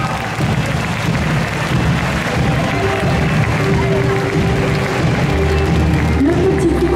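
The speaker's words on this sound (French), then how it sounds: "On applaudit très fort" Applause from the audience at a cosplay costume contest, a dense, steady wash of clapping that fills the room from start to finish, with crowd voices murmuring underneath.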